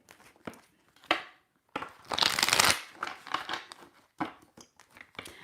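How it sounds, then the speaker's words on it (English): A deck of tarot cards shuffled by hand, giving crisp riffles and flutters, sharp snaps and one long loud cascade of rustling card stock, close up with brief pauses between bursts. "I feel like I got to shuffle these cards just a little bit more"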